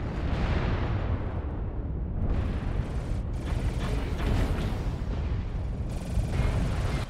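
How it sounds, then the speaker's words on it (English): Incoming missile explosions in MechWarrior Online, heard from inside a Piranha mech: a dense, continuous roar of blasts and mechanical rumble that swells and dips over several seconds, loud and close, with no talk. "Warning, incoming missile."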